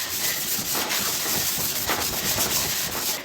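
Steady hand rubbing of 220 grit sandpaper on a craft door hanger piece, a continuous dry scratchy hiss with slight back-and-forth swells, close and moderately loud with no talk.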